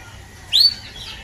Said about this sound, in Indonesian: Ya, burung katuk.